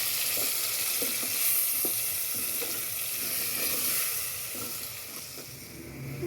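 Garlic and ginger paste frying in a pan for khichdi, a steady close sizzle with scattered stirring clicks and scrapes throughout, no voices.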